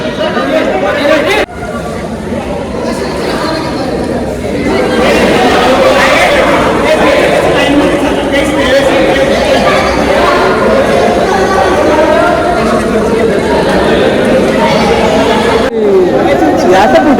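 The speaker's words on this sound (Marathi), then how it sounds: "आणि एवढी गर्दी झाली तो शिवलिंग सुद्धा दिसत नाही" A dense crowd chatters at the ancient Harishchandragad temple in the rain, a loud continuous babble of many overlapping voices close around.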